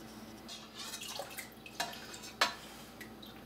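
Whey trickles and drips as homemade mozzarella curds are squeezed by hand, a faint, quiet patter with a few sharper drops standing out near the end.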